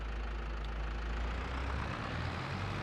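A 136-horsepower tractor idles in Farming Simulator 22, its engine holding a steady low rumble throughout with no speech.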